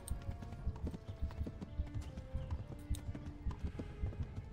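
A horse galloping in the video game Kingdom Come, rapid rhythmic hoof clip-clop close and steady with a faint whinny, no talk over it.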